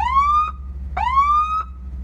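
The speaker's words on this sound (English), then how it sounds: "They now control a siren." Two short electronic siren whoops from a 1997 Jeep Grand Cherokee, each sweeping upward and ending sharply, with a brief gap between them, loud and close.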